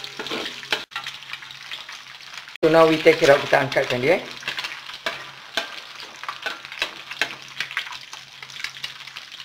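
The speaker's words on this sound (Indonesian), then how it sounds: "We fry our egg first, kita punya telur." Eggs frying and being scrambled in a pan, cooked as the first step of a black fried kuey teow with giant river prawns; a loud sizzle swells for a moment mid-clip, with stirring and a voice talking over the cooking.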